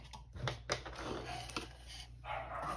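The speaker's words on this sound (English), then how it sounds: "Sorry, my puppies are being noisy girls today." Mini dachshund puppies yap and bark in short bursts over a steady background hum, with some clicking mixed in.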